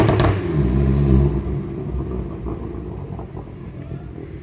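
A Golf 6 GTI on a Stage 1 tune with a crackle map revs loudly up close, a deep rumbling engine swell that fades into a lower idle with faint pops, people talking alongside.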